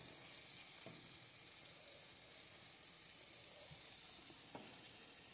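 Pork chops sizzle on a grill in a constant, even hiss of frying fat, with a couple of faint pops and ticks in the background and no one speaking.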